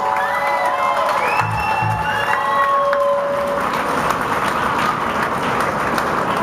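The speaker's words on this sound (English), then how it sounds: "A nice round of applause, please." A loud crowd applauds and cheers at a blues musician tribute event in Sacramento, with sustained clapping, whoops and high shouted cheers rising over the steady roar of hands.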